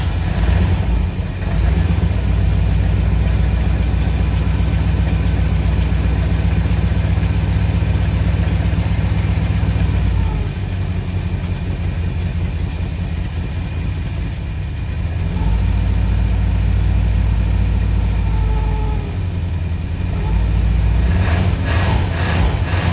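A heavy old 1952 Cadillac engine idles steadily with a deep, lumpy rumble, close by and loud, with brief changes in tone partway through.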